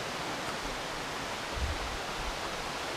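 A small waterfall on Rock Run pours in a steady, even rush of water, close and continuous with no other sounds over it.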